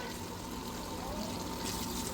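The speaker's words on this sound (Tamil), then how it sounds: "தண்ணி ஊற்றுறோம்." Water, about 800 ml, is poured into a pot of Ambur-style mutton biryani, giving a soft, steady, continuous splashing pour at low volume.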